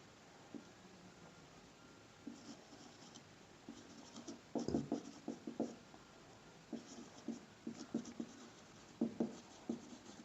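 A marker scratches notes onto a board in a chemistry lesson, heard as quiet, irregular bursts of squeaky scribbling strokes that grow denser toward the end. No one speaks.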